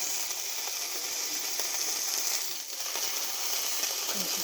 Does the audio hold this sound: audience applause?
no